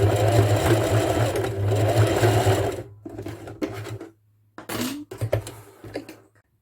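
A sewing machine stitches a rope basket in a steady, loud whirring run, then stops and restarts in shorter bursts with brief silent gaps and a few small handling clicks, close up with no talk.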